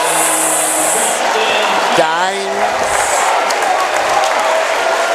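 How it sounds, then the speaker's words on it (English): A high school basketball crowd cheers and roars loudly and steadily through a close game, with shrill sneaker squeaks and a commentator talking over the noise. "Eli Ellis has this crowd going crazy"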